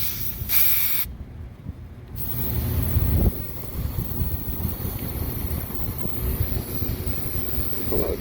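Nitrogen gas purges through the lines of a kitchen air conditioning system, a strong steady hiss that starts with a brief bright burst and then runs on continuously, close to the microphone.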